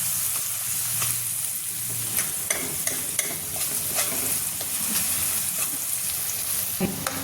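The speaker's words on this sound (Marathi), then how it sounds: "जास्त लाल नाही करायचा कांदा अगदी थोडासा मोसर झाला की आपण आलं लसूण पेस्ट घालू त्यात" Chopped onion sizzles and fries steadily in a pan with occasional stirring scrapes, a continuous close crackle with no talk.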